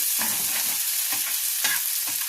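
Vetki fish frying in a pan with onion and garlic leaves over a medium flame, a steady hiss broken by five or six scraping stirs at roughly half-second to one-second intervals, close and with no talk.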